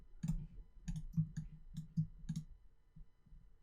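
A computer mouse clicks about nine times in close succession, crisp, near, quiet taps at an uneven rhythm in an otherwise silent room.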